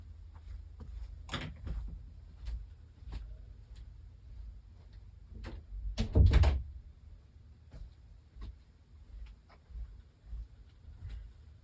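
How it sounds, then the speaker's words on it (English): A door closing indoors, a short loud thump and rattle standing out from a quiet room with a faint steady hum and a few light taps before and after. "I'm going to close my door."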